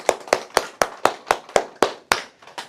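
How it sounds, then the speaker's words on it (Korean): An audience clapping in unison at a senior welfare center lecture, eleven sharp, evenly spaced claps in a steady rhythm, close and loud with no talk. "박수!"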